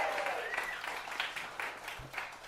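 Applause from a small audience at a comedy show in a bar in Astoria, Queens, a brief, fairly close burst of clapping that fades slightly, with a voice speaking over it.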